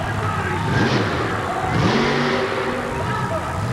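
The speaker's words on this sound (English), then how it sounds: "Listen to the sound of that engine, a supercharged alcohol burner." A supercharged alcohol-burning monster truck engine at a 1988 Kansas City event roars loudly and steadily, its rough, throaty rumble swelling twice as the revs climb, with a crowd-like din beneath.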